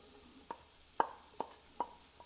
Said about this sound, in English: Stir those in, and we're going to cook this mixture until all those mushrooms are cooked.